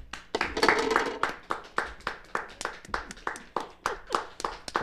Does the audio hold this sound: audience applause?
yes